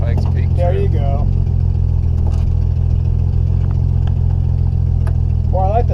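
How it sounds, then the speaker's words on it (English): A car exhaust rumbles steadily at idle, close by, with people chatting over the low droning engine. "Well, I like the sound of your exhaust."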